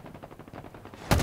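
Weapon fire in the Halo Infinite video game: a low rattling run of shots builds to one loud, sharp burst near the end, close and with no talking.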